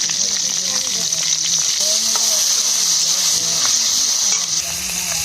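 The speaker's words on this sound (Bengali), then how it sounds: "আর একটু তেল দিয়ে দেবো। শুকনো লঙ্কা ফোড়ন করবো, তেজপাতা ফোড়নে দেবো, ফোড়ন দেবো।" Dry red chillies and bay leaves are tempered in hot oil for a shrimp, potato and green papaya dish, giving a loud, continuous sizzle that stays close and even throughout. Faint voices or background sounds murmur beneath the frying.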